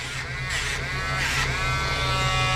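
A Dremel nail file buzzes steadily against an animal's nail, a close, constant high whine broken by a few quick strokes, with no talking.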